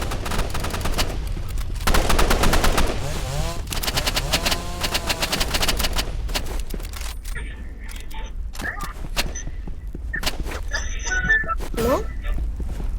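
Loud rapid automatic gunfire from the video game Rivals, in dense sustained bursts up front that thin out into scattered shots and game sound effects, with a voice talking over it.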